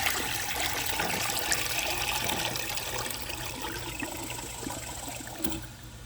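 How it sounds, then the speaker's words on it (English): A Crane Elite front-flush toilet from 2007 flushes for a second time with the handle held down, a steady rushing, gurgling wash of water running loud and close throughout, easing slightly near the end. "Tank should be about full, so let's give it a second flush."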